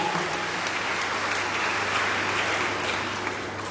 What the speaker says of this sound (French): Acclamons très fort pour Jésus-Christ le ressuscité.